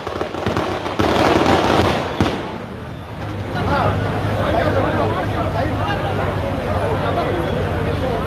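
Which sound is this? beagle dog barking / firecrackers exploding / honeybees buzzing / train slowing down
firecrackers exploding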